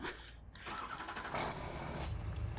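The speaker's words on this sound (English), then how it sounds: "I like the sound of this tractor. The start sound of that." A tractor engine starting in the Farming Simulator 17 video game: a brief crank and catch, then a steady mid-pitched idle rumble, fairly quiet and heard alone.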